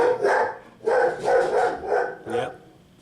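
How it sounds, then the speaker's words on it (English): A pet dog barks repeatedly out in a back garden, loud and fairly close, in several short bursts with brief gaps between them and no talking. "that's my dog shouting at atoms in the back garden that are moving"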